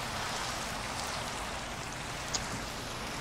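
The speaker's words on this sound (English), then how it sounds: "Oh, it's raining." Steady rainfall in a survival video game makes a dense, even wash of hiss from start to finish, with one small tick partway through and no voices.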